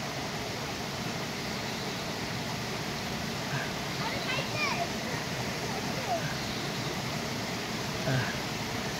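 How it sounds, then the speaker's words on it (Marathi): A small forest stream in rural Konkan flowing over rocks toward a river, a constant soft rush of water with light splashes and faint distant voices of children in the background. "हे बघा, हा ओढा खाली नदीला मिळतो"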